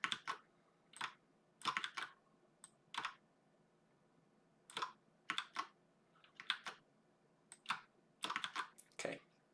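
Keys clatter on a computer keyboard during graphic design work, coming in quiet, irregular bursts of clicks with short pauses between them and no talking.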